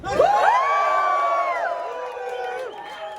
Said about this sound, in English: You are a fairly rowdy crowd,